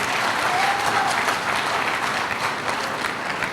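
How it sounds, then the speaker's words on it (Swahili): Audience clapping at a live briefing on Yanga's new stadium, a thick continuous wash of applause from a large crowd, even in level and sustained for the whole stretch. "Tuwapigie makofi tafadhali"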